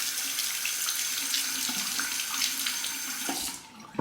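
Tap water runs steadily into a sink while a razor is rinsed, a continuous bright splashing hiss that carries on alone and cuts off abruptly near the end.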